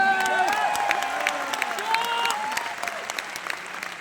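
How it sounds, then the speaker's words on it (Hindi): Audience applause at a program in Delhi, a dense, steady clapping from a large crowd close by, sustained throughout with faint cheering mixed in. "और इन लोगों की तालियों से इस बात का एहसास होता है"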